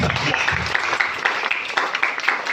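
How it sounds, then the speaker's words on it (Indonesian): Audience applause for a group of women at an Easter church gathering at a Christian high school in Ambon, a steady dense patter of many hands that fills the clip. "mari kita berikan tepuk tangan untuk perempuan-perempuan"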